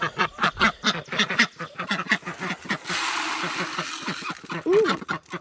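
Ducks quacking close by in a farmyard, a rapid series of loud, nasal quacks that pause briefly midway under a soft hiss, then resume.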